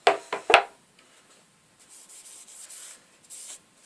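Boiled linseed oil rubbed by hand into a tree-work saw, a few sharp scuffs at the start followed by soft, faint rubbing strokes, close and alone.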